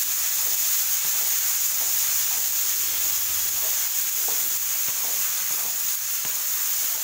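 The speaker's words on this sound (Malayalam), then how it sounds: "പച്ചമുളക് ചേർത്ത് കൊടുത്ത് നന്നായിട്ട് മിക്സ് ചെയ്യാം." Green chilies and curry leaves sizzle steadily in hot oil for papaya thoran, a constant bright frying hiss with occasional light stirring clicks and no talking.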